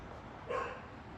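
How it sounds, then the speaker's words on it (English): One short dog bark sounds faintly in the middle, brief and somewhat distant over a low background hiss. "You hear the dogs barking?"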